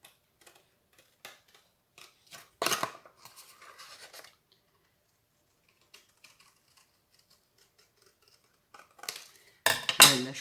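Scissors snipping through cardboard while making a Christmas yule-log box, a few sparse, sharp crunching cuts close by with long quiet gaps between them and a louder burst of cutting at the end.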